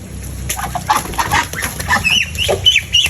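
Repeated honking and clucking calls from geese, loud and close, in irregular bursts with some scratchy background movement.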